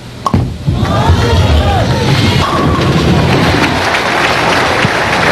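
At a 1995 PBA National Championship match, a professional bowler's ball smashes into the pins for a strike. A loud, sharp crash opens the sound, followed by a sustained roar of crowd noise and commentary.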